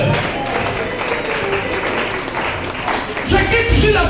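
Church congregation clapping and cheering in a continuous, dense wash of applause that swells louder near the end, with voices mixed through the crowd.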